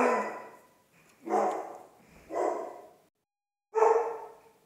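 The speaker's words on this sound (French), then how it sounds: "C'est mon chien qui gueule." A dog barks indoors in a home studio, four loud, close barks in short bursts separated by pauses.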